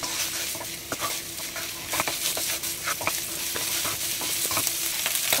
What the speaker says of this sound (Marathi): पयले मांस भाजता. कंटिन्यू स्टर करूया